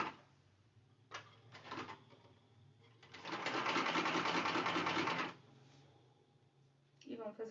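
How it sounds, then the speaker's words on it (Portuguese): A sewing machine stitches fabric for a car trash bag in a short burst of rapid, even whirring, preceded and followed by quieter handling knocks and brief pauses between runs. "E vamos fazer uma costurinha com cuidado."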